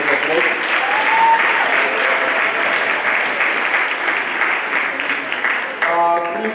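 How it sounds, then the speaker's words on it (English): Audience applause at a sub-structures inauguration ceremony, dense steady clapping from a crowd running throughout, fairly loud and close. "Can you just give Prince a round of applause"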